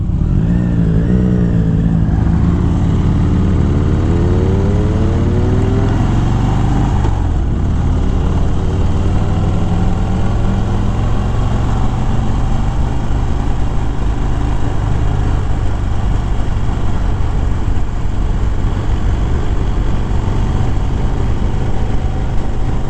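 A sport motorcycle rides along a winding road, its engine droning steadily and loudly throughout, with rising and falling revs as the rider works through the bends.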